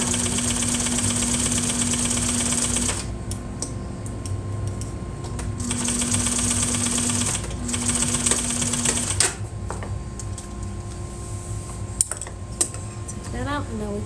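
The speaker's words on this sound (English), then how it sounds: "I'm going to start with the back stitch and just run it all the way down to the bottom" A sewing machine back stitches a long seam on a chair upholstery pattern-making project, running in two steady motorized bursts separated by pauses, with scattered clicks and handling noise.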